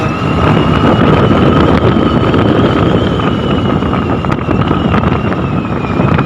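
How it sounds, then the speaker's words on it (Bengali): A Suzuki Burgman scooter is ridden at top speed on a rough road, its engine droning steadily under loud, constant wind buffeting the microphone, with no talk. "আমি এখন চেষ্টা করবো পুরা স্পিড উঠানি যায়"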